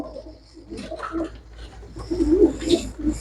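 Pigeons coo in short, soft bursts close by, several low rolling calls overlapping in a quiet space.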